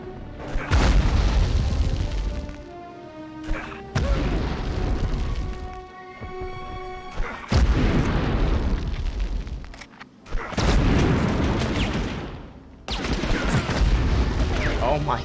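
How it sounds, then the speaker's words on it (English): Repeated loud grenade blasts in the World War II shooter Medal of Honor, in a mission escaping a V2 rocket plant; several heavy booms land in bursts across the clip with short quieter gaps between them. "Okay, grenades galore."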